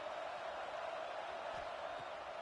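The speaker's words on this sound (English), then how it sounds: "how nice is it to have the home crowd going absolutely bananas?" Home crowd at a college football game, Michigan against UCLA, roaring loudly in a steady, dense wall of cheering with no breaks, heard from the stands at a distance.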